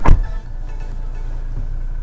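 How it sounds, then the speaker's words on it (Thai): The door of a 2017 Toyota Revo 2.8 J-plus pickup shuts with one heavy, close thud. Afterwards the diesel engine keeps idling as a low, steady, quiet rumble. "เดี๋ยวผมปิดประตูให้ฟังนะ"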